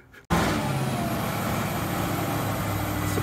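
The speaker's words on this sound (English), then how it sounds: "It's a beefy old engine, that is." A car engine kicks in abruptly and keeps running loud and close, a heavy rumbling roar that holds steady.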